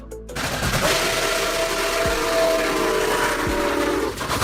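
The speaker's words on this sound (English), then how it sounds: "A classic train powered by steam, using coal, wood, or oil to boil water." Steam locomotive running on a railway, a loud steady chuffing rumble with a sustained whistle-like tone held across most of the passage and a couple of heavier thumps underneath.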